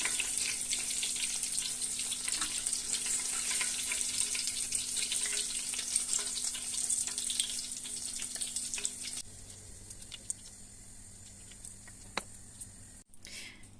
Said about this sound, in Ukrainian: даємо йому прожаритися ну, пів хвилиночки